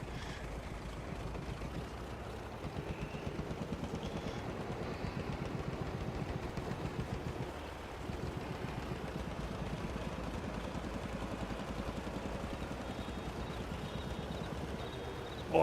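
A vintage 1960-era tractor in Farming Simulator 22 labours at a steady low engine drone while pulling a wagon, the mechanical chug continuous and close for the whole stretch, with no talk over it.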